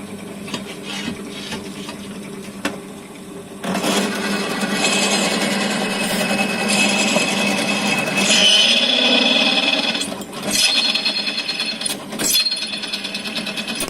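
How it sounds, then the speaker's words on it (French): A drill bit bores into a stainless steel railing, a harsh continuous grinding whine that starts after a few seconds, holds steady and loud, then drops and pulses briefly as the drill is eased up. "le forêt coupe le métal et ne l'arrache pas"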